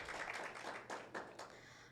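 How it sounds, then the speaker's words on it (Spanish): Brief applause at an awards ceremony for young entrepreneurs, several separate bursts of hand clapping, faint and distant, over about two seconds. "Para él también un fuerte aplauso, señor Oscar."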